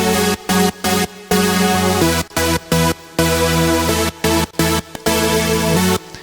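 Electronic EDM synth chords processed with a Fruity Stereo Shaper stereo widening effect and left-side delay in FL Studio, playing in loud rhythmic stabs with short gaps between bursts.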